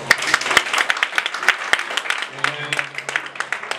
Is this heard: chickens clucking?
no